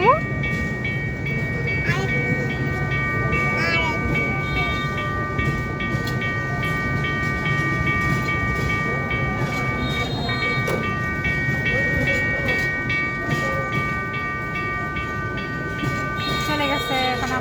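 A train rolls past with a continuous heavy rumble and clatter, and a sustained horn sounds over it for several seconds. Voices are heard nearby.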